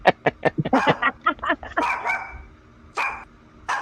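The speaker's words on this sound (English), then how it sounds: "Sounds like her puppy." A small puppy barks repeatedly in quick, sharp yips, close and loud, with a brief whine-like stretch before a few more barks, at night outdoors with no talk over it.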